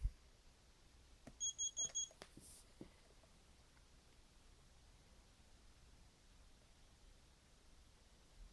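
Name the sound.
alarm clock beep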